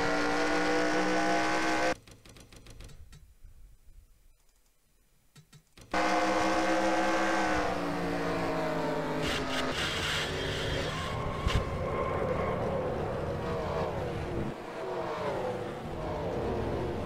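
A NASCAR race car's engine in the NASCAR Racing 2003 video game roars on board the 43 car at Dover, a loud, sustained high-revving drone that drops away briefly before surging back at full pitch.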